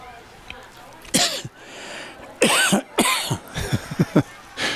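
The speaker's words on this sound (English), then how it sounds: "You don't have to push that cough button. It's already, you coughed it out." Coughing during a girls' varsity high school soccer match, with several loud, sharp coughs in quick bursts separated by short pauses, close to the microphone over faint outdoor background.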